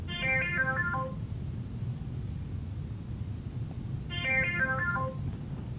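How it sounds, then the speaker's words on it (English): A telephone rings in an office with two bursts of warbling electronic trills a few seconds apart, over a steady low background hum. "my phone was ringing in my office"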